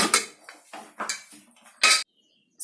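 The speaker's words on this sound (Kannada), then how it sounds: "ಲಿಡ್ ಅನ್ನ ಓಪನ್ ಮಾಡ್ಕೊಳ್ಳೋಣ." A pressure cooker being opened after its whistle, heard as a string of close metallic clanks and scrapes of the lid and pot, ending with a short harsh burst and silence.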